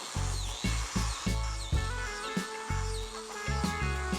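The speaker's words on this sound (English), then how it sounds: "I'm cutting some biscuit grooves using my trusty biscuit joiner" A biscuit joiner cuts biscuit grooves in wood, giving a series of short, sharp whirring bursts in quick rhythm, close and fairly quiet, with no talking.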